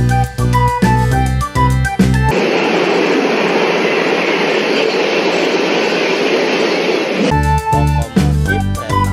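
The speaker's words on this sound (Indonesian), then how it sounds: "Lokomotif kereta" A toy express train locomotive plays a bright electronic jingle, breaks into a loud rushing rail rumble for about five seconds, then returns to the same tune, close and loud.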